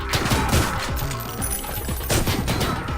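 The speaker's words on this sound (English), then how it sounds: "So you see, look, things exploding." Explosions and gunfire in the retro shooter video game Ion Maiden, a dense run of sharp blasts and bursts with heavy thumps, loud and close, surging near the start and again toward the end.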